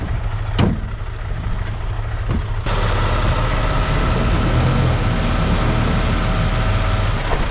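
A pickup truck on a North Dakota farm strains to pull out a stuck farm vehicle, its engine droning low and steady before the load jumps up partway through and holds as a loud, sustained rumble.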